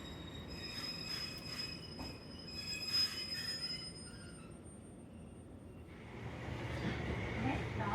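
High, metallic squeal of the Tama Museum train's wheels grinding on rails at a platform in Wakayama, Japan, fading out midway before a low rumble of the moving train rises again.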